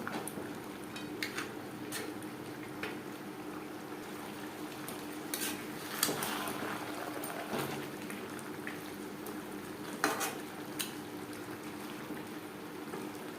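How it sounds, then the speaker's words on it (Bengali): A catla fish head is stirred into a thick simmering gravy with Gobindobhog rice, giving soft wet bubbling under intermittent spoon scrapes and clinks against the pot, quiet and close. "গ্রেভির সাথে মাছের মাথা বেশ ভালো করে মিক্সড করে দেবো"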